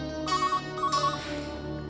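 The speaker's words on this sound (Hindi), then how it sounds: "तुम्हें फोन की घंटी सुनाई दे रही है?" A telephone rings in a home: two bursts of a bright electronic trill, then a fading tail, heard close and fairly clear with no voices.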